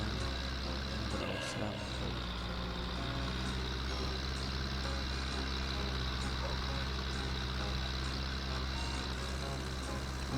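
An MTZ tractor in a farming video game runs with a steady, droning engine hum throughout, with a brief mechanical shift early on.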